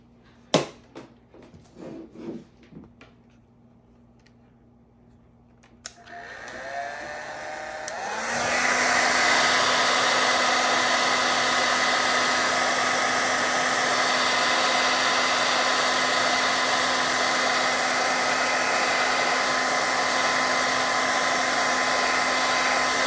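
A hair dryer drying paint on a painted eclipse scene starts up after a few seconds of quiet handling noises, then blows at a loud, steady, continuous roar close by until the end, with no talking.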